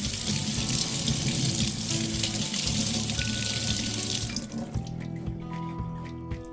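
Tap water runs hard into a sink to rinse a leaking gooseneck water-purifier faucet part, making a loud, steady gush that thins to a softer splashing trickle near the end.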